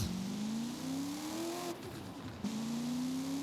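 A modded car engine sound in Forza Horizon 5 revs upward in a steady rising drone, drops away briefly at a gear shift, then climbs again, close and loud with no voices.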